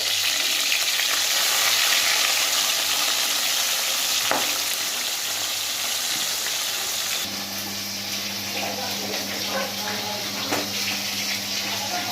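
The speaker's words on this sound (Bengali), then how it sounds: "মাছটাকে ভেজে নিচ্ছি" Tilapia fish frying in oil, a continuous loud sizzle and crackle that shifts slightly in tone partway through as the fish settles, with faint clatter in the background.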